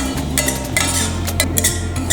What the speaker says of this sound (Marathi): थोडंसं तूप टाकून आपण रवा भाजून घेऊया